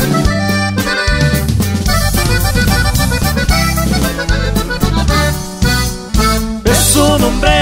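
A live band plays a Mexican corrido, with loud, dense instrumentation, a bouncing bass line and rhythmic strummed and plucked parts, a few sharp accents near the end, and no voices.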